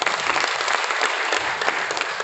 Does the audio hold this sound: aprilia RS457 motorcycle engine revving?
no